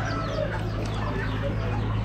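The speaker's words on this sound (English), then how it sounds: "Bunch of big black roosters." Big black roosters in a poultry pen at an Amish animal auction, clucking and murmuring steadily against a constant hum of background noise, with no voices.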